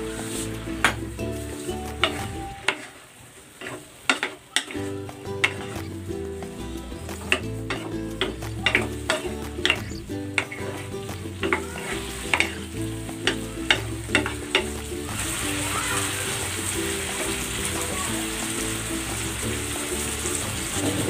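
Chicken bites sizzle and fry steadily in a pan of butter with garlic and black pepper, with occasional utensil clatter from stirring running under the continuous hiss.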